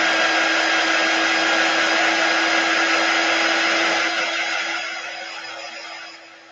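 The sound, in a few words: dryer blowing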